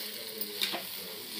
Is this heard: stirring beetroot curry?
yes